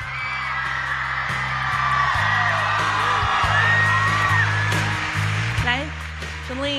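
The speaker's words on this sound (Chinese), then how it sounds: "要不要再给你们十秒钟的时间再尖叫一下？" A large audience at a Chinese-language music chart awards concert screams and cheers loudly and continuously, with sustained musical tones running underneath.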